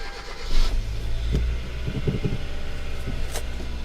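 An old manual-transmission car engine starts and settles into a steady idle rumble, loud and close, with no talking.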